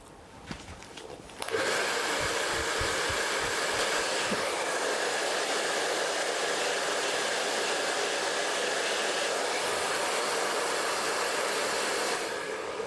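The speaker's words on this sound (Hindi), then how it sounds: "अब हमें क्या करना है कि बॉक्स सेक्शन में यहाँ पे ड्रायर करना है।" A blow dryer switches on with a click and then blows a loud, steady whooshing roar close by for about ten seconds while hair is dried into out curls, before cutting off near the end.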